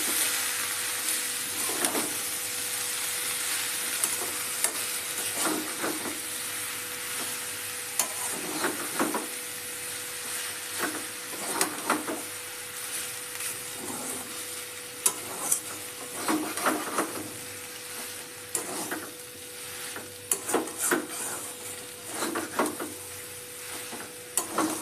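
Spices are stirred into chicken mince in a frying pan, with a steady sizzle under repeated scraping spoon strokes at an unhurried rhythm, close by and with no voices.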